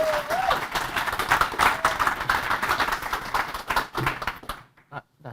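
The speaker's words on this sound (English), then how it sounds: "Small applause, please," Audience at a student living forum in the UK applauding, a dense, moderately loud patter of clapping with some crowd murmur that thins and stops near the end.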